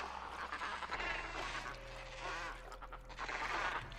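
Ambient bird calls from a video game world, duck-like quacks and honks mixed into a continuous background bed with a faint sustained tone, moderately loud throughout without speech.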